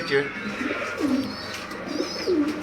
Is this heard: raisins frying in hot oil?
no